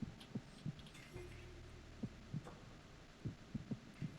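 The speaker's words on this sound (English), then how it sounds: "You're hearing the irregular heartbeats." Faint, irregular thumping heartbeats overlap over a low steady hum, picked up through a directional microphone in the stealth game Metal Gear Solid 2. The beats arrive unevenly, in pairs and singles.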